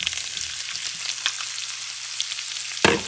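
Shrimp frying in preheated oil in a pan over medium-high heat, a steady crackling sizzle throughout with a louder burst of spatter near the end; no voices.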